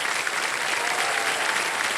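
The studio audience on Kaun Banega Crorepati claps in steady, dense applause that stays loud and even throughout, with no voices standing out.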